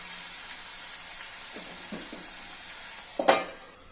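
Ridge gourd is stirred in a sizzling frying pan, soft scraping strokes over a steady hiss, ending in a sharper clatter of the spoon against the pan.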